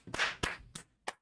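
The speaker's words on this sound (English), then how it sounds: "Everybody get your hands ready to clap." Four separate hand claps from a small group, sharp and fairly close, coming at an uneven pace with brief gaps between them.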